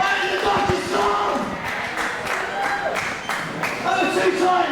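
Crowd at a live wrestling show cheering and shouting in approval of a wrestler, a dense, steady roar of many voices with scattered claps and rising yells throughout.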